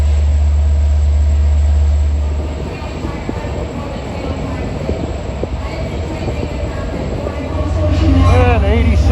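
Passenger train 8701 rolls in from Montauk with a deep, loud rumble that eases midway, then swells again as wheels squeal near the end, while a person talks over it.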